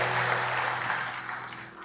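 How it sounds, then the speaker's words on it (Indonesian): Church congregation clapping in steady, dense applause filling a worship hall, with a low hum beneath, continuous and fairly loud before tapering slightly at the end. "Berikan dulu tepuk tangan bagi Tuhan."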